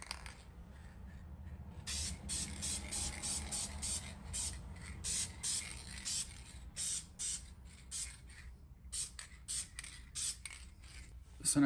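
Aerosol spray can hissing in a series of short, even bursts as light coats of paint go onto a hand-held part, fairly close, with brief pauses between passes and no voices.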